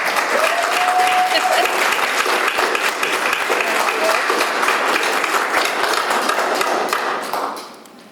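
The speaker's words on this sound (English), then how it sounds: "I'd say she deserves a nice round of applause." A room full of people at a city council meeting breaks into a long, loud round of applause, steady and dense for about seven seconds before fading away.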